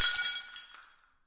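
A bust drops and shatters into countless fragments, a sharp burst of breaking glassy material with tinkling debris that rings out and fades over about a second, alone with no voices.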